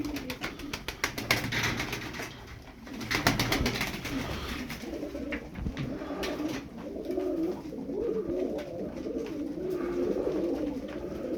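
Pigeons cooing continuously at close range, layered low throaty coos with flutters and rustling, no speech.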